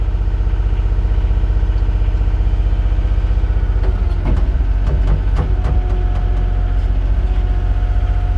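A Bobcat 100 skid steer loader's engine idles steadily close by, a loud continuous low rumble with harmonic drone, joined midway by brief clanking and rattling bursts.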